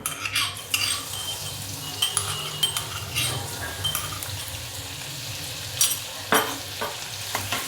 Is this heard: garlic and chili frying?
yes